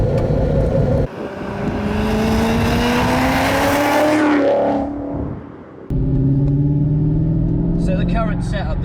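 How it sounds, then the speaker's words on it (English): A Rover V8 car passes close by outside, its exhaust rising to a loud roar as it accelerates and then fading, followed by another loud burbling pass. "we'll get some nice clips of the exhaust from the outside"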